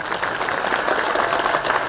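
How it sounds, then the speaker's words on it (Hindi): An audience at a public political rally in Dalhousie, addressed by Chief Minister Jai Ram Thakur, gives a brief burst of dense, steady applause that holds at an even level throughout. "ताली आधे लोगों ने बजाई, आधे ने बजाई नहीं"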